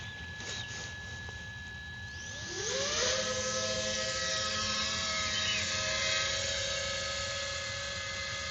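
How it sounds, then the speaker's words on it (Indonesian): A high, steady electric whine with shifting pitch tones rises and holds as a small FPV drone arms, spins up and hovers close by, without any talking. "Kita pakai drone kecil aja nih"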